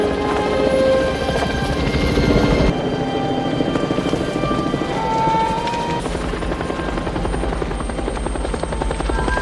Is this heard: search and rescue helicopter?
yes